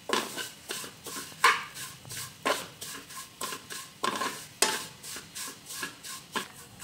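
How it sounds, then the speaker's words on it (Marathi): A spoon scrapes and stirs vermicelli roasting in ghee in a metal pan, with repeated sharp clinks and scrapes in an uneven rhythm and a faint sizzle underneath. "आता आपल्याला शेवया पण तुपामध्ये थोडंसं लालसर भाजून घ्यायचं आहे। चांगला असं सारखं हलवत राहायचं आहे।"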